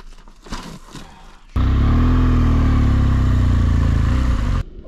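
A dirt bike engine passes close by on a Cheyenne Mountain trail near Colorado Springs, a sudden loud sustained roar that cuts in after soft rustling and ends abruptly.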